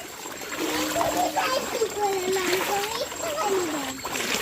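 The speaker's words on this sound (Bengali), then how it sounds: "সমুদ্র আস্তে আস্তে যাও জল উঠবে কিন্তু পায়ে জামা কিন্তু ভিজে যাবে" A child wades through flood water, making a steady splashing and sloshing that goes on without a break. A voice and other voices talk over it.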